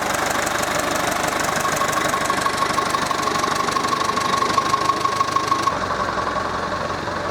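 A classic MGB GT engine idles steadily up close, a continuous rumbling drone with a faint knocking texture and a sustained whine running through the middle.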